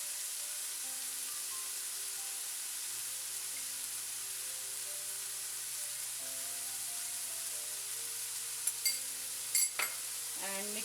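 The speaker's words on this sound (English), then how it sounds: "so just mix it well and turn the flame off" Red pepper and salt are stirred in a hot pan, giving a steady, even sizzle throughout, with a few light scraping taps near the end.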